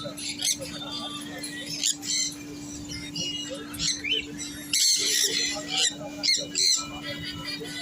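Budgerigars squawk and chirp in bursts at a busy bird market, with sharp high calls scattered throughout as people talk nearby over a steady background hum.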